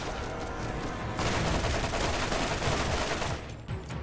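Rapid, sustained gunfire from a high fire-rate weapon in Borderlands, loud and dense bursts running nearly four seconds with a brief easing near the end, no talking.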